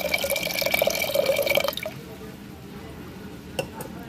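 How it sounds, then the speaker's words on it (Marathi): Water pours into a pot of dal seasoned with salt, cumin and asafoetida, a bright trickling stream for under two seconds that cuts off, followed by a few faint drips. "ह्याच्यात थोडं आपण पाणी ॲड करून घेऊयात"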